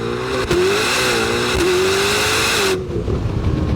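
Loud, close acceleration from a 1,064-horsepower, rear-wheel-drive supercar powered by a twin-turbo 5.5-liter flat-plane-crank V8, the engine pitch rising in steady sweeps before cutting off abruptly near the end.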